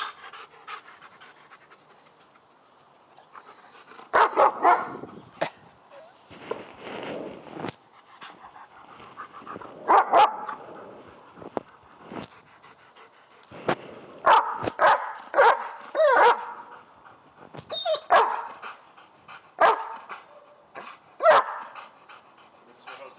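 A dog pants heavily and lets out scattered barks and yips in short bursts, fairly close, with occasional voices nearby.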